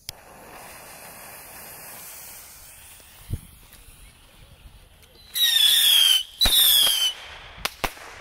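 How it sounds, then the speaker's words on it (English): A batch of red-bottomed bottle rockets launching outdoors: a couple of faint pops, then two loud whistling hisses a few seconds long, followed by sharp cracking bangs, fairly close. "All right, here goes a lot of red-bottomed bottle rockets."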